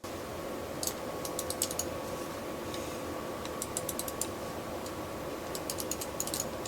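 Small sharp clicks from a Razer Naga Epic mouse button arrive in quick bursts of several, pausing between clusters, close and crisp over a faint steady hiss.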